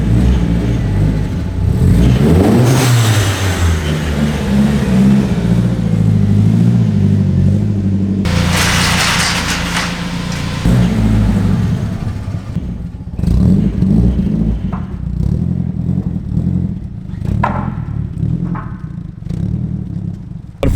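A BMW E36 engine revs hard and rumbles as the car pulls away, with loud surging bursts of acceleration, brief lulls between gears and clattering mechanical noise throughout.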